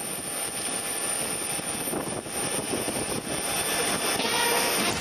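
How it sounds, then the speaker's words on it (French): A loud, steady engine roar from an aircraft on the tarmac at an airport during a head of state's arrival ceremony, a continuous broadband drone with no clear speech over it. "La diplomate tchadienne, accrédité auprès du président du Faso, Madame Kat Ndilgem Elisabeth, monte dans l'avion pour inviter le chef de l'État à descendre"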